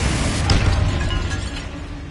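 The Confringo spell in Hogwarts Legacy produces a fiery explosion: one sharp blast followed by a rumbling, fading tail.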